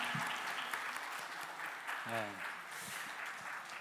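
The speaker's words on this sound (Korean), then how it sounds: "큰 격려의 박수 부탁드립니다." Church congregation at an afternoon worship service clapping in steady encouragement, a dense, fairly quiet wash of applause throughout with a voice briefly speaking over it midway.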